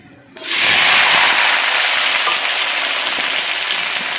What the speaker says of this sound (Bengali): পেঁয়াজ দিয়ে এবার আমি এই পেঁয়াজটাকে একটু ভাজা ভাজা করে নিচ্ছি